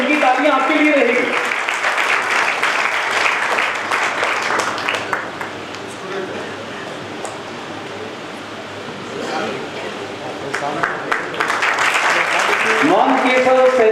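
Applause at a teacher and student award ceremony fills the room, loud and sustained, fading slightly in the middle before swelling again, with voices talking over it at the start and end.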